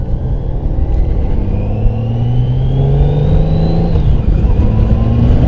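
A 2014 Honda Valkyrie motorcycle accelerates hard and close up, its engine note climbing in steady rising pitch for about four seconds, easing briefly and then pulling up again, under loud continuous rumble.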